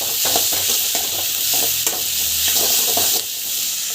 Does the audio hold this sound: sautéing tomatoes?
yes